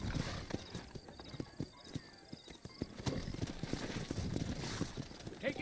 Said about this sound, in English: Mr. Marston, let's get. Giddy up